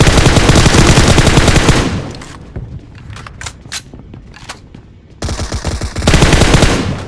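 Automatic gunfire in the mobile battle royale game PUBG Mobile, loud sustained machine-gun bursts at the start and end with scattered single shots and quieter sounds between.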